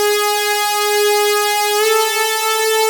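A bright, buzzy Serum synth lead preset in monophonic mode holds one steady note, then glides upward by portamento near the end, loud and sustained with no talking, for a beat.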